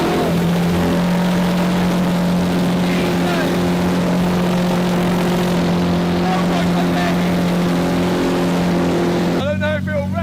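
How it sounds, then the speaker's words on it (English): A raw V12 engine with no exhaust roars loudly and continuously at a steady pitch, then cuts to a different rattling tone near the end. "V12 screaming out the back"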